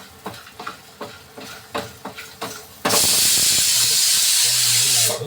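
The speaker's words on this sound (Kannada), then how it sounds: "ಕ್ಲೀನಾಗಿ ಫ್ರೈ ಮಾಡಬೇಕು" Ingredients for a trotter soup frying in a pan: rhythmic stirring scrapes come first, then a sudden loud, sustained steamy hiss of sizzling that ends abruptly, close and without voices.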